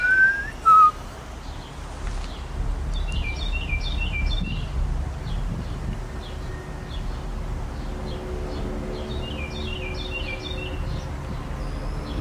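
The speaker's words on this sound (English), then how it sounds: "I hear a whistling noise in the background." A faint whistling drifts in the background, with thin repeated chirp-like bursts over a steady low hum.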